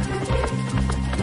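A horse's hooves clip-clop steadily at close range during a riding lesson, the rhythmic beats loud and continuous over an outdoor background.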